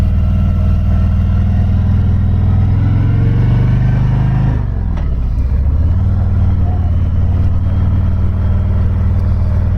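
A 2019 Harley-Davidson Road King motorcycle rumbles loudly and steadily while riding on a highway, its deep engine drone dipping briefly as it shifts and then carrying on, with wind noise over it.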